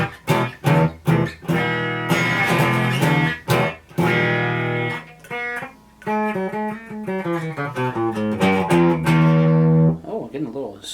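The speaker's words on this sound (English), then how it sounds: "Oh, getting a little distortion there." Overdriven electric guitar, a 1980s-style super strat with humbuckers, plays chords and single notes with a gritty, buzzing edge, loud and close, with brief pauses between phrases.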